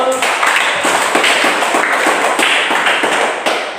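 Schoolchildren clap their hands together in a classroom, a fairly loud, steady patter of many hands for several seconds that fades slightly at the end.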